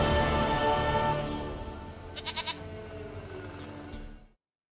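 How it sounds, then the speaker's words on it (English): Goat bleating in the video game The Witcher 3, a few wavering bleats close by over a fading bed of music and ambience before dropping to silence. "Goat of mine, dearest, sweetest goat."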